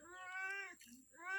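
A cat meows twice, close and clear, a long drawn-out call followed after a short pause by a second, in a jungle village setting.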